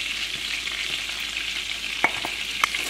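Flour and fat cooking into a roux for water gravy in a pan, giving a steady close sizzle with a couple of sharp utensil scrapes and taps near the end, no voices.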